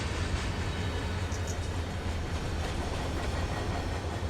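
A CSX freight train runs steadily in Run 8 Train Simulator, a loud, continuous rumble of rolling cars with faint clickety-clack from the wheels.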